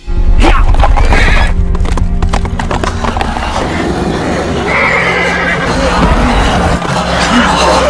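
A horse neighs loudly in a horror film scene with zombies, a long whinny over rapid clip-clopping hooves, set against dense, loud film sound with a narrator speaking over it.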